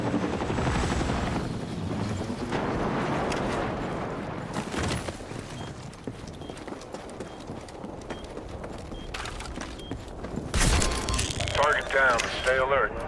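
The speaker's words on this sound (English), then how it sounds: "Always in the helicopter." Helicopter in a video game, a continuous rhythmic rotor chop running throughout beneath game effects, with bursts of noise and people talking over it.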